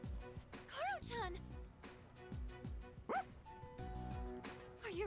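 Koromaru, a dog in the video game Persona 3 Reload, lets out several short, bright barks and yips in quick bursts, spread through the scene, while voices talk between them.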